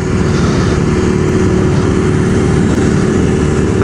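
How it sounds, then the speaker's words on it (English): A 1987 Honda Rebel 250 motorcycle being ridden, its loud engine and exhaust drone holding a steady, continuous roar throughout without pause. "Melly's Honda Revel 250 is actually louder right now than my bike"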